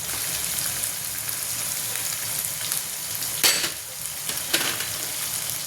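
A tomato goes into a hot pan with onions that have been lightly reddened, and a loud, dense frying sizzle runs throughout, with a couple of sharper bursts as the pieces hit the oil.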